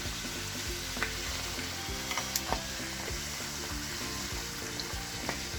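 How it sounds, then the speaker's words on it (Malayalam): Bhatura fry in hot oil over a full flame, giving a continuous dense sizzle with faint crackles and no talking. "ഭട്ടൂര എണ്ണയിലിടുമ്പോൾ നല്ല ഫുൾ ഫ്ലെയിമിൽ തന്നെ ഇടണം"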